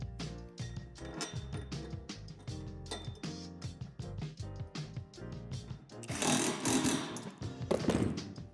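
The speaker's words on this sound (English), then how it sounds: "On the edge of the plastic barriers, drill out each indentation with a 3/8 drill bit." A power drill with a 3/8 bit bores out indentations along the edge of a plastic playset barrier. It comes in as a loud, rough burst near the end, after a stretch of tonal background sound.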